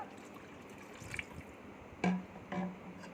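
Water is added to a pot of pav bhaji, giving a few soft drips and splashes, with two brief louder pours near the end against a quiet kitchen background.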